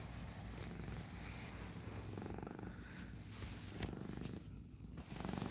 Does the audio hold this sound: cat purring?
yes